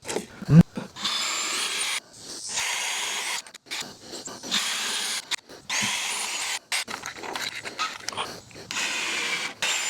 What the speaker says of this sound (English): start drilling all this together